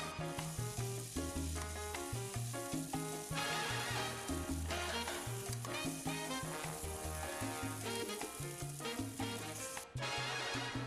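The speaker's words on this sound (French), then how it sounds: "Je vais passer à la cuisson qui va durer 5 à 6 minutes de notre viande dans une poêle bien chaude" Chicken shawarma meat sizzling in a very hot frying pan, a dense continuous crackle and hiss, loud and close throughout.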